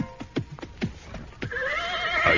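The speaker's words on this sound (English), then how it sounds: "I pulled up my horse and dismounted." A ridden horse is pulled up: a run of clip-clopping hooves slows and stops, then a loud, close whinny rises and trembles for about a second.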